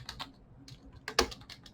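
Someone types code on a computer keyboard, producing a short, uneven patter of soft key clicks with one sharper tap, close and quiet, with no speech.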